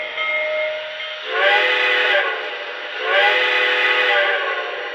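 Steam whistle effect from a Lionel Southern Railway model train sounds in two long, loud blasts with a hissing edge, each held about a second, separated by a brief quieter gap.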